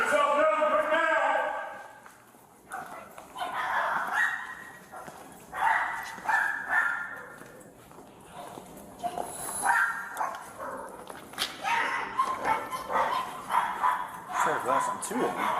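Several dogs bark and yip in irregular bursts, some sharp and some whimpering, at a Petland pet store after a break-in where puppies and birds were found outside, with people talking over them.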